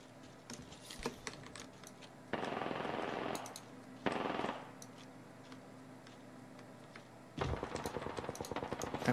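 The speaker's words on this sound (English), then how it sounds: "They shoot again." Apex Legends gunfire comes in three loud, dense bursts of rapid shots, with quieter clicks and taps between them.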